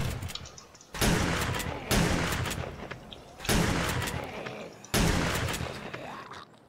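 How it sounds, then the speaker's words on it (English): Shotgun fire in the video game 7 Days to Die, Ravenhearst mod: four loud, booming blasts at uneven intervals, each trailing off briefly before the next, with no talk over them. "Shotguns take your head off."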